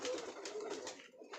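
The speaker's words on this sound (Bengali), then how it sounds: "পায়রাগুলো এখানে রয়েছে, খাবার খাচ্ছে সব পায়রাগুলো।" Pigeons coo in a loft, a soft continuous burbling of several birds close by, steady and fairly quiet throughout.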